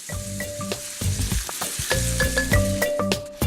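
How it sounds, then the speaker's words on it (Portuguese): Onion and garlic sautéing in oil in a pan, a continuous close sizzle broken by clinking and scraping stirring strokes, with no voices. "Esse é o típico barulhinho do refogado"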